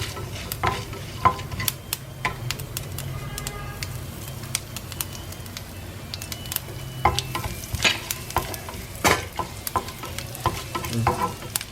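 Asafoetida tempering in hot oil for mango rice sizzles continuously, broken by frequent sharp pops and crackles, close and fairly loud, with occasional clinks of a pan and no voices.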